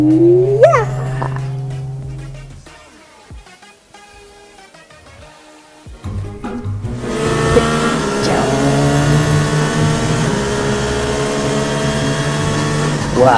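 A cartoon car in a kids' animated show speeds past with a rising engine roar that swells and holds loud for several seconds, following a quiet stretch with faint voices and music.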